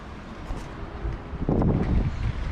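Strong wind on a back deck recorded by a GoPro Hero 8 microphone inside its protective housing, rough buffeting gusts that swell into a loud, dense roar over the last second.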